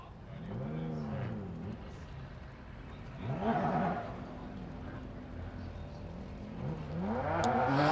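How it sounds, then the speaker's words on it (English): A BMW drift car revs hard at the start line of a Formula Drift Pro 2 qualifying event in St. Louis, giving three rising engine sweeps that sound moderately distant over crowd and ambient noise. "AJ Muss leaves that start line in his BMW"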